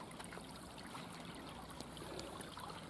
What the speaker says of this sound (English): So it's flowing down there, and then the surface water is joining it